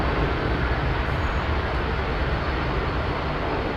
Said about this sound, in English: That was a big flexy takeoff